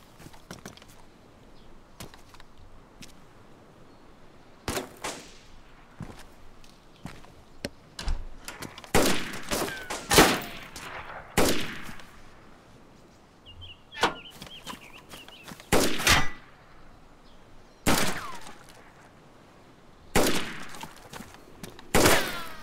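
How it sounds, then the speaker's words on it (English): Repeated sharp gunshots from a magnum rifle (Mosin) in an online multiplayer shooter game, sounding as loud separate cracks spaced irregularly, some in quick pairs, over a quiet background. "Someone got a magnum that they're shooting."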